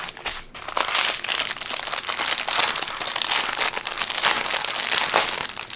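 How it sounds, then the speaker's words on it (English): Plastic packaging from a Diamond Art Club diamond painting kit crinkles loudly and continuously, close up, with no talking. "I apologize for the crinkling."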